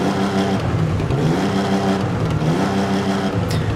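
Toyota 2000GT engine in Forza Horizon 4, revving loud and close with a steady rough growl that swells and eases a few times over a few seconds.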